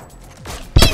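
Gunfire from a video game pistol, a single sharp loud report close by that bursts in near the end after a quieter rustling stretch.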